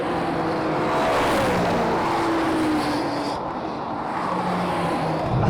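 BMW M3 CS cars accelerating hard in a drag race, a loud sustained engine roar with rising pitch that holds steady over several seconds with no talk over it.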